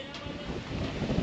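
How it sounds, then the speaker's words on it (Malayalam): Strong wind gusts buffet the microphone during a shikara boat ride on Dal Lake, Srinagar, a steady, loud broadband rush that swells toward the end, with no voices. "കാറ്റ് വീശുന്നുണ്ട് കേട്ടോ."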